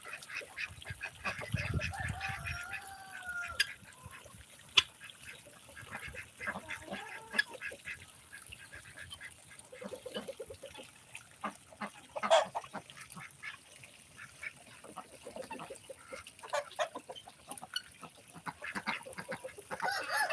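Ducks and geese on a small farm call out in scattered honks and quacks, some near and some farther off, with quiet gaps and bursts of splashing noise between calls.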